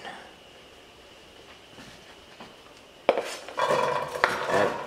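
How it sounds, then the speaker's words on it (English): Chopped onion goes into a pan with about a tablespoon of hot oil in a small home kitchen for a cottage pie; after a quiet stretch, a sudden clatter gives way to steady loud sizzling and crackling. "Then you're gonna add in your onion."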